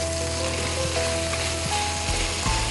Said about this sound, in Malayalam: പൊട്ടുന്ന ശബ്ദം കേട്ടോ, പൊട്ടുന്ന പൊട്ടാസ് മാതിരി.